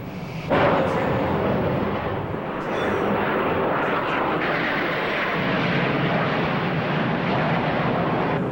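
A military airplane from a nearby airfield passes over a village in Gunsan with a loud, sustained jet roar that starts abruptly and holds steady, and faint voices sit beneath it.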